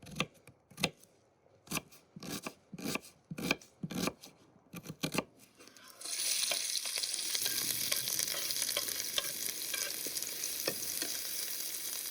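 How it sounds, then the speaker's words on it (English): Several sharp knife chops on a board, then a loud, steady sizzle as wild mushrooms and onions hit a hot pan over a fire and keep frying. "I enjoy that sound of frying."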